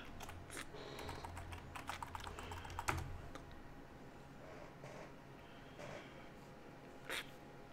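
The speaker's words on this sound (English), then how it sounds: "Get my other keyboard out." Fingers tap quickly on a computer keyboard in a burst of rapid clicks that thins out to a few scattered keystrokes, quiet and close.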